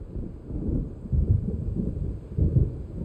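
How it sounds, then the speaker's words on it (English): A deep, rolling rumble of thunder from an approaching storm in Alan Wake Remastered, swelling in low waves over a few seconds, heavy and fairly close with no other sounds. "It seems there's a storm coming."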